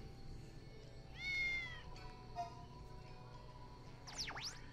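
A cat meows in the video game 7th Dragon III Code VFD: a clear rising-falling meow, then a quieter chirp, then a sharper wavering mew near the end, over quiet game background.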